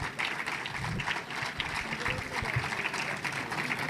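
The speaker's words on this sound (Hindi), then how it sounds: "बहुत सारी क्लैपिंग करें, पीछे भरपूर क्लैपिंग करें।" Audience applause fills a school prize-giving ceremony at Royal City School, a dense, steady clatter of many hands that keeps going from start to end at a fairly even volume.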